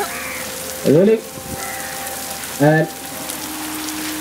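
Artificial rain pours on a television film set, a steady broadband hiss like a hard shower hitting the ground, with short loud shouted calls from crew cutting through twice.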